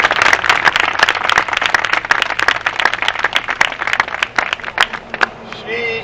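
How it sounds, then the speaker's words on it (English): An audience applauds an honoree with steady, dense clapping that stays loud throughout and tapers slightly at the very end. "Let's give her a rousing round of applause."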